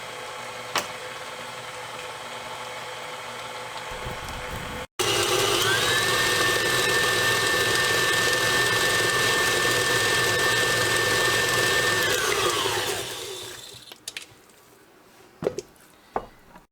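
An electric mixer blends Crisco, butter and sugar in a bowl, whirring up loud and steady for about seven seconds with a constant pitch, then winding down, with small clicks and clatter before and after.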